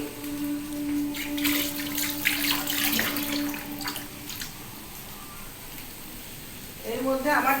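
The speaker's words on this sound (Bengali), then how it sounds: "এবার হাতটাকে ধুয়ে নিই" Tap water runs steadily as hands are washed in a kitchen after mixing rice by hand, with rising splashes and a wetter rush near the end.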